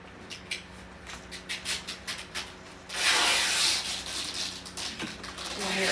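Fall planters are decorated with rapid scissor snips and rustling, followed by a long rasping pull of tape coming off the roll and more scratchy handling, all close and fairly quiet with no clear talk.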